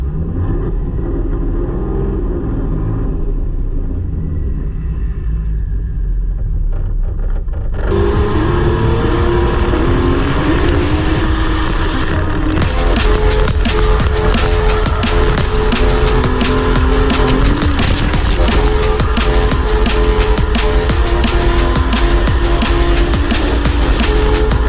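A drift car's engine roars loud and continuous, revving hard with tyre noise building as the car slides; the sound is quieter and more muffled for the first few seconds, then jumps to a dense, full-throttle blare that holds to the end.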